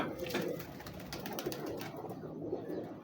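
Pigeons kept for high flying coo softly and repeatedly in a loft, a low murmuring call that recurs over steady background noise with scattered clicks and rustles.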